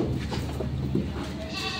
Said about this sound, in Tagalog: Ito yung mga kambing nila.